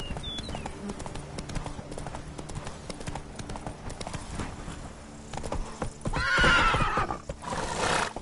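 In a PS4 video game, a horse gallops with rapid, rhythmic hoofbeats, and a loud neigh rises near the end, with a voice heard briefly.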